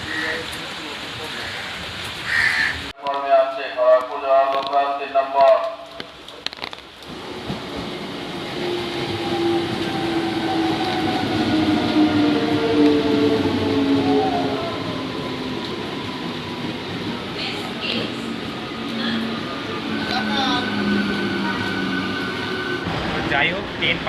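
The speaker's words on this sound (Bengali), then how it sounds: "ট্রেন পারফেক্ট টাইমে এসেছে।" A local train bound for Kharagpur pulls into the station, a long rumbling approach with rising rail noise and a clattering run of wheels, preceded by a brief spell of voices and a chime-like announcement.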